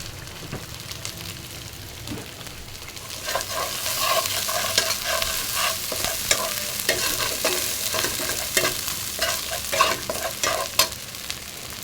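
Green chilies fry in a pan, sizzling steadily with broad crackle, while repeated scraping turns of a spatula come through from about three seconds on, close and fairly loud, with no voices.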